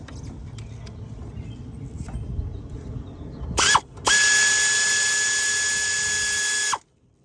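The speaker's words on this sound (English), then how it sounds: "long neck ratchet really coming in handy" A long-neck ratchet working on a 2017 Nissan Sentra engine during timing chain and oil pan work: a short whirring burst, a pause, then a loud, steady high motor whine that holds for about three seconds and cuts off sharply.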